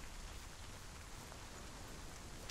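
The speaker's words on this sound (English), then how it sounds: "Oh, rain by the way." Steady rainfall in the game Hellblade: Senua's Sacrifice, a soft, even wash of drops hissing continuously at low volume with no voices over it.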